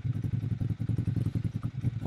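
A Ducati Monster 796 engine thrums close and steady at idle or low speed, a deep pulsing rumble with a rhythmic, slightly lumpy beat and no talk.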